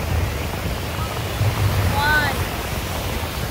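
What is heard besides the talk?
river waves splashing against boat on Savitri river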